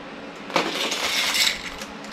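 Crimp wire cutters snip through fishing wire while limb lines are made, giving one quick, quiet metallic snip up close, followed by soft handling rustles.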